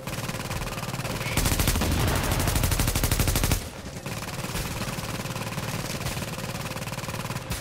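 Rapid automatic gunfire crackles in the shooter game The Division during a Times Square firefight, with a sustained loud burst in the middle and steady lighter shooting around it.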